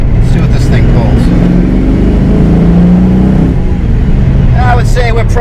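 A Fox Body notchback 5.0 Mustang with a small block Ford V8 and headers pulls hard, with a loud, steady engine roar heard from inside the car while people talk over it.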